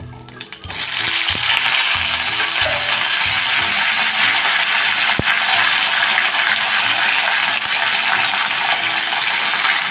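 Curry leaves and bottle gourd pieces drop into hot oil already crackling with cumin seeds, setting off a loud, dense, steady sizzle that bursts up abruptly and keeps going without talk.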